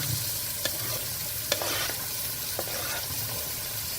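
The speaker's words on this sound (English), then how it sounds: "The next step is to cook the onions" Onions frying in sesame oil in a pan for a hot curry, a steady close sizzle with a few sharp clicks of stirring, no voices.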